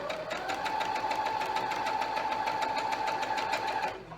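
Sewing machine stitching a lined drawstring bag, a steady fast mechanical whir with rapid needle clatter running continuously for about four seconds before stopping, close and alone.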